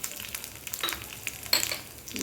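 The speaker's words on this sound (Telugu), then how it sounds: "ఆయిల్లో వేయించుకుందామండి." Garlic, green chilies, coriander and a little coriander seed fry in hot oil for a coconut-peanut chutney, a faint, soft sizzle with light crackles and no voices.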